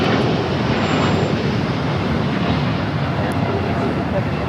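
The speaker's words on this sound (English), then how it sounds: "This is Latam Airlines 8087 taking off to Sao Paulo, Brazil on the 787-9 Dreamliner." A Latam Airlines Boeing 787-9 Dreamliner takes off from runway 25 Right at Los Angeles LAX, producing a steady, broad, loud roar that holds without a break throughout.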